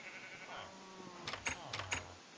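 In a video game, a short, faint sheep bleat with a few sharp clicks over a low steady hum.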